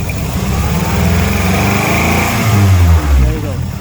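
A 2003 Honda Accord with no power and poor acceleration, its engine droning loudly and rising in pitch as it revs up, with a person talking over part of the run.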